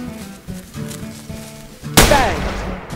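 A sharp gunshot sound effect from a live-action game of the Western card game Bang!, one loud blast with a ringing, ricochet-like tail following a stretch of low background murmur.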